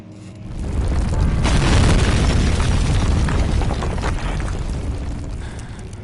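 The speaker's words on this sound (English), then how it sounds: "The place caved in." A cave-in in the horror game Amnesia: The Dark Descent, a loud, deep rumbling collapse that builds quickly and rolls on for several seconds before slowly fading, with no talk over it.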